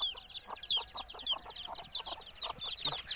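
A hen clucks in short, steady repeated calls beside her ten chicks, about six or seven days old, which peep in a busy high-pitched chorus close by on a small farm.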